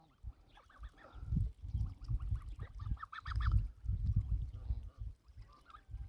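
Geese honk close by in a run of repeated nasal calls, several birds overlapping over a low rumbling background.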